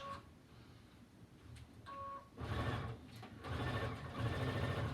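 A sewing machine runs in quiet bursts while stitching quilt pieces with a quarter-inch foot, its soft motor hum rising and pausing between short stitches, with faint beeps early on.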